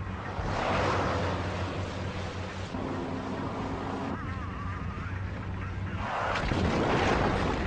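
Heavy rain pours down at the outskirts of a village, a steady, loud, dense hiss that fills the whole clip with a low hum beneath it.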